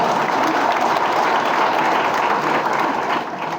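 Crowd applause at a political rally in Ratnagiri, with dense, loud, continuous clapping from a large audience that eases slightly near the end.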